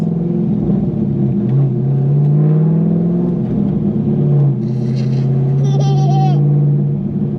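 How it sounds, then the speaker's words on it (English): Corvette engine held at a steady low rumble with a rising rev near the end, close and continuous inside the car, while a voice and an adult talk briefly over it. "What's that sound? That's the engine."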